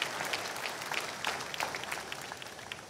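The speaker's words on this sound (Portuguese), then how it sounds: "Vamos aplaudir maravilhosamente ao nosso Senhor Jesus Cristo." A church congregation claps steadily during a worship service, a moderate burst of applause with individual claps audible, no speech.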